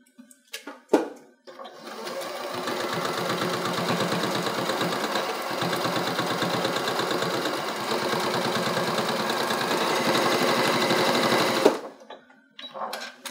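A sewing machine stitches a zip bag in one steady, fast run of rapid mechanical clatter lasting about ten seconds, with brief handling knocks before and after.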